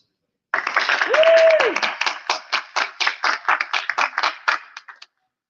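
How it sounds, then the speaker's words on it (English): A small audience at a San Diego Comic-Con 2024 panel claps for a panelist. The claps are sparse and distinct, coming in quick uneven bursts for a few seconds before stopping abruptly, with a brief tonal sound near the start. "give a warm round of applause for Gilly Writes Comics"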